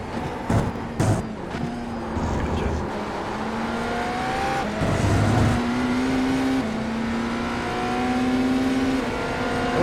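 Race car engine in the iRacing sim drones loudly and steadily, its pitch stepping down and holding as the driver lifts, brakes and coasts, with a brief louder burst near the start.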